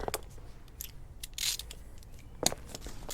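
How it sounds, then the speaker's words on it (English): A hand ratchet tightening a skid plate bolt during a garage install, giving a few quiet, scattered bursts of metallic clicking separated by pauses. "Get your ratchet"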